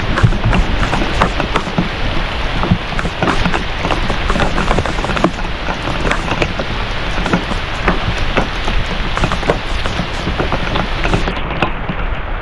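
Heavy monsoon rain pours down steadily in dense forest, a loud, close, continuous hiss with scattered heavier drops on leaves and surfaces and no voices.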